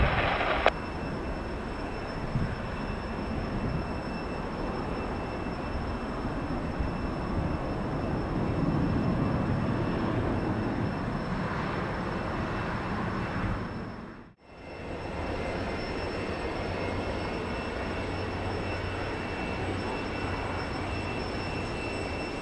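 A jet landing on runway 3 right at Detroit Metro Airport roars steadily for about fourteen seconds, swelling in the middle, then cuts out abruptly and the steady roar returns.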